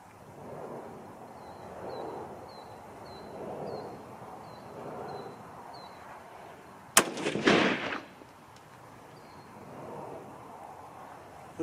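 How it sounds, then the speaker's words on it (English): A single sharp rifle shot from a .243 Winchester firing Sierra 80-grain bullets cracks out outdoors, followed by a short rolling echo, against quiet wind and faint bird chirps. "Alright, third final shot with the 80 grain."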